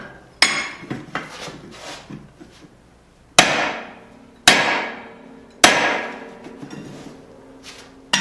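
Hammer blows strike a drift seated in the eye of a forged tomahawk, four sharp metallic impacts ringing out with a few lighter taps and clinks between them.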